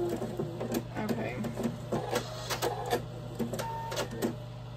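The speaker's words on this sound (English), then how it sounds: "Just kind of doing a zigzag stitch, a small one, because that fabric did kind of tear." Sewing machine running a small zigzag stitch over torn fabric, a steady close mechanical whir with rapid repeated needle clicks and a constant hum, some faint talk underneath.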